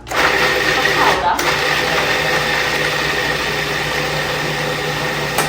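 Food processor grinding walnuts toward a flour-like powder, a loud steady motor whir with a brief dip near the start, running continuously while someone talks over it.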